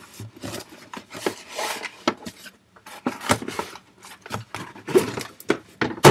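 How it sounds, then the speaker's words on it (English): Electric eraser, a plug-in mains tool, rubbing on paper in irregular short bursts of buzzing and scrubbing, close and fairly loud, with pauses and handling noises between strokes. "This, my friends, is an electric eraser."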